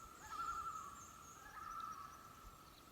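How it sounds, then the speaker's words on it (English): Loons call across a foggy lake in Algonquin wilderness, two long wavering wails sounding distant and faint over a quiet, still background. "And then there's loons calling."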